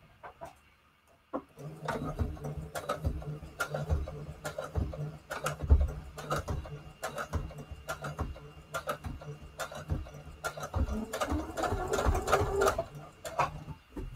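A sewing machine stitches two junk journal tag pieces together in a quick, steady rhythmic patter of needle strikes, close up and continuous after a brief quiet start.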